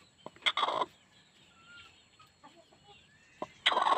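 Hmong black chickens on a hill-farm homestead cluck and squawk in short, fairly close bursts, with quieter peeping and chirps filling the gap between the louder outbursts.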